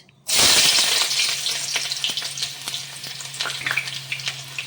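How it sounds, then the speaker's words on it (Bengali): Chopped onion drops into hot mustard oil in a frying pan for prawn malai curry, bursting into a loud sudden sizzle that settles into a steady crackling fry with scattered pops. "তেলটা গরম হয়ে গেছে। এখন দিয়ে দেবো কুচানো পেঁয়াজ"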